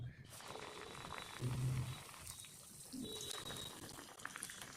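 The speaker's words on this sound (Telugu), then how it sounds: "సో ఈ విధంగా ఫ్రై చేసుకోవాలి ఈ కలర్ వచ్చే వరకు" Sliced potato bajji dipped in batter sizzles as it deep-fries in hot oil, a faint, steady bubbling hiss that runs throughout with a soft voice now and then in the background.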